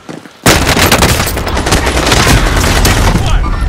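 Heavy gunfire in a Call of Duty: Modern Warfare Resurgence match: after a quiet moment, a loud dense fusillade of automatic shots and rattling bursts continues without a break.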